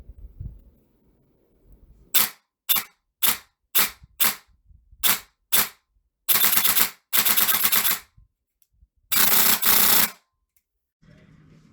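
A KWA T10 airsoft gun fitted with a brushless motor, test-fired with its upper removed: a string of sharp single shots in a steady rhythm, then several dense full-auto bursts, loud and close with no talking.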